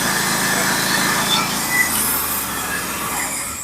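A sawmill blade runs through a log making the final 1-inch cut for 1x12 barn board, a steady high whine and rasp that fades slightly toward the end.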